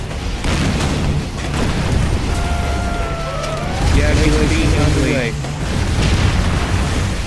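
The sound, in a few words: laser beam strike explosions in video game C&C Generals Zero Hour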